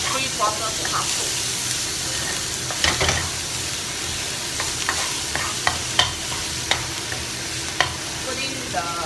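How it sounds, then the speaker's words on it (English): Minced pork stir-fried in a wok over medium or low heat sizzles steadily up close, with sharp scrapes and clicks of the spatula ticking in irregularly through the frying. "Stir fry the pork until about 3/4 to half cook."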